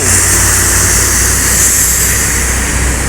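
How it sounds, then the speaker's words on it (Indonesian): A Bus Sumbar coach, numbered NPM V57, arrives with a loud, steady engine drone close by, a constant mid-pitched hum and hiss with no break and no speech. "Masuk lagi bus Sumbar, ini NPM V57."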